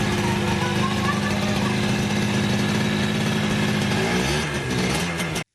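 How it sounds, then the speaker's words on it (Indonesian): Yamaha RX 125 Twin, a 125 cc two-stroke twin-cylinder motorcycle, engine running with a loud, buzzy, rapid crackling exhaust note, held steady then wavering briefly before cutting off abruptly at the end. "penggunaan mesin 2 tak silinder kembar berkapasitas total 125 cc yang memberikan karakter suara yang khas"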